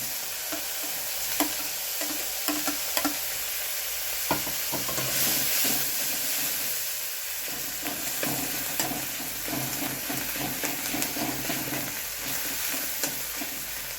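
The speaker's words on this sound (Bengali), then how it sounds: "এইবার রসুনটা দিয়ে দেবো।" Garlic sizzles steadily in a pan of hot oil for eggplant bharta, with frequent scraping clicks of a spatula stirring it, close and continuous.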